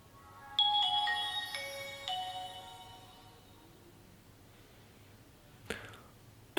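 Nokia E71 mobile phone, a 2008 handset, plays a short bright ringtone melody of stepped chime-like notes for about two seconds. The notes fade into quiet, and a brief click follows near the end.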